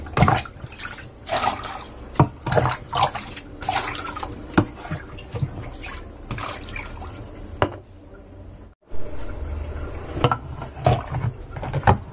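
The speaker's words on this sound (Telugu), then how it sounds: "దీంతో వాటర్ అంతా తీసేస్తున్నాను" Water splashes and drips as it is scooped repeatedly with a small disposable container from a dishwasher that will not drain, with irregular sloshing strokes, close and moderately loud.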